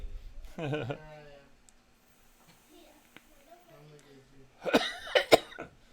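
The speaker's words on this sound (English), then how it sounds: "as much as I try not to cough, this thing makes me cough" Two bursts of harsh coughing brought on by vaping, one early and a louder cluster near the end, with quiet room sound in between.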